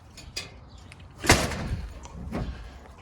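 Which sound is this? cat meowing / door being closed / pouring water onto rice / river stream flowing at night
door being closed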